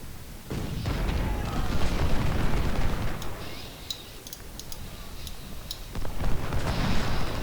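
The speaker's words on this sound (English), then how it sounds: "I'm gonna shoot at Davis here to see if we can't stop him from shooting back." Battle sounds in a Civil War video game: dense, continuous rumbling artillery booms and scattered sharp gunshot cracks, loud and sustained with overlapping volleys.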